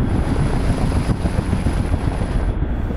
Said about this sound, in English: the EC-225 is one of the most advanced search and rescue helicopters in the world